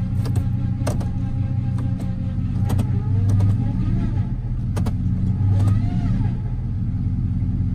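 A high-mileage car with 270,000 miles and a transmission problem idles and is revved in a few short bursts. The engine rumble is steady and close, with sharp clicks and voices in the background.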